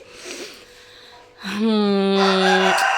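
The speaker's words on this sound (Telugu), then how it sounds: "మా కోడి పుంజ అయితే మీకు గుడ్ మార్నింగ్ చెప్పేస్తుంది" A farmyard rooster crows loudly and close by in the early morning, one long drawn-out cock-a-doodle-doo rising out of quieter background sound.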